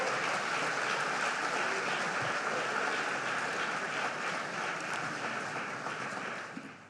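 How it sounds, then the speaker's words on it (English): Steady, moderately quiet applause from an audience at the Nigerian Economic Summit greets an award announcement, a continuous wash of clapping that tapers off near the end. "please give a round of applause to them."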